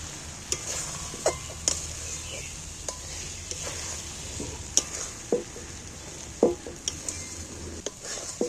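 Fish roe and cracked egg stirred and fried in a pan, with a steady soft sizzle under repeated sharp scrapes and clicks of a spoon against the pan at an irregular rhythm, close and fairly quiet.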